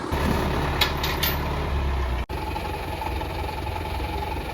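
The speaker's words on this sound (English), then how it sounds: "We're gonna try to drag this silt fence out with the tractor." A tractor engine runs steadily at a low, droning idle-to-working rumble, close by, while dragging out a silt fence with a chain, with a brief clank midway and no talking.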